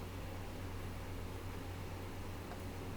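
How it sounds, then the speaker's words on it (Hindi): An air cooler's fan runs with a faint, steady whoosh and a low hum. The sound stays constant throughout, with no other sounds over it. "हां कूलर की आवाज आ जाएगी"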